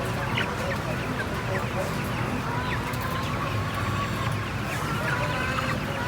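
Guinea fowl and other poultry call continuously at a live poultry market in Jamaica, New York, a dense, loud mix of overlapping squawks and honk-like cries with market bustle behind.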